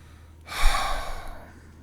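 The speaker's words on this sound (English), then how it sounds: "You can even hear her take that sharp inhale." A woman draws in one sharp, breathy gasp, a short noisy inhale that swells and fades within about a second, close and fairly quiet with no talking.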